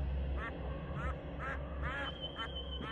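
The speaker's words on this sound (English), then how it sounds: "the duck just said Satan" Cartoonish duck quacks from the Final Fantasy XIV Endwalker video game, a run of about six short nasal calls spaced roughly half a second apart over a steady low background hum.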